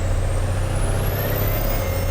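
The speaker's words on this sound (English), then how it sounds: "All right, got boost, got it all spooled up, making 30 pounds of boost." A Dodge Cummins diesel truck under load in fourth gear, towing a Ford crew cab body on a super dually chassis, roars loudly and steadily while a high turbo whistle rises throughout.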